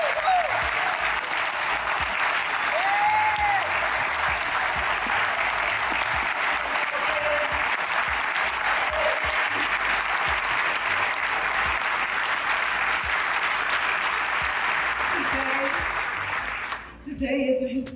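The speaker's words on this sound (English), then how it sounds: "Give him a round of applause." Sustained, dense applause from an audience in the Georgia House of Representatives honoring Calvin Smyre, a steady roar of many hands that carries on for the whole stretch before fading briefly near the end.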